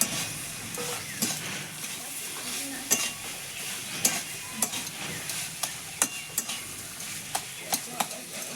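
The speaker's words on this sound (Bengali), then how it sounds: "চিনিটা দিয়ে আমি 1 মিনিট মতো একটু নেড়ে চেড়ে নেবো, চিনিটা যাতে শাকের সঙ্গে মিশে যায়।" Cane-shoot greens with potato, eggplant and sugar are stirred in a pan over the heat, a spatula clinking and scraping in an irregular rhythm over a steady, close sizzle.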